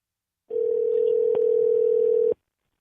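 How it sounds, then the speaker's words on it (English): A single steady telephone tone, loud and close, holds for almost two seconds with a brief click partway through, then cuts off cleanly into silence. "This is the phone call. Now, we call Kattan"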